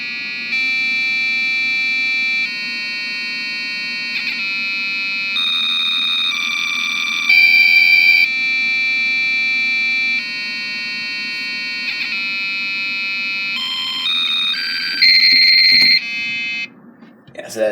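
Video game tune played through the built-in PC speaker of an old Dell computer, harsh buzzy square-wave notes held in long steps and shifting pitch, loud and continuous, ending in a brief scrape.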